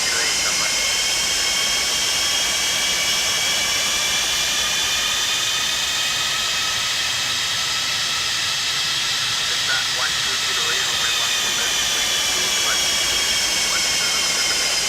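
Boeing 747 jet engines spool up for takeoff in the X-Plane flight simulator, a steady, loud, roaring hiss that holds for the whole stretch, with faint tonal whines riding over the broad rush.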